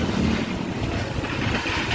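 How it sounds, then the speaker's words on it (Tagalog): Strong gusty wind roars steadily across the microphone outdoors during a walk after class, a loud broadband rush with no clear voices. "Guys, ang sarap ng hangin. It's super hangin."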